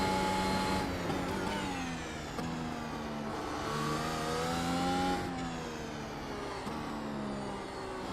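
A Mercedes AMG W12 Formula 1 car engine in the iRacing sim screams at high revs throughout, its pitch rising through gears and dropping sharply at several quick shifts, loud and continuous with no talking.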